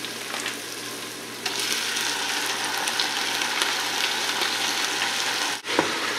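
Two pounds of ground bison browning in a pan with garlic, a steady close hiss and crackle of sizzling meat, with a brief scrape or clatter near the end.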